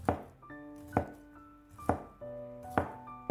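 A knife slices sausage into thin pieces on a cutting board at home, four crisp chopping thunks evenly spaced about a second apart, close and clear, with faint ringing tones lingering between strokes.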